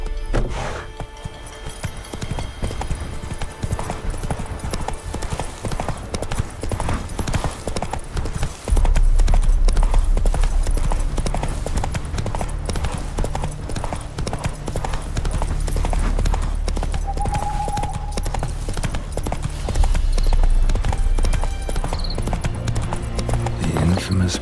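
Geralt's horse Roach in The Witcher 3 galloping with rapid, rhythmic hoofbeats that grow heavier and louder partway through, over game music, with a voice speaking at times.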